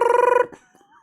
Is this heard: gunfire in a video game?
no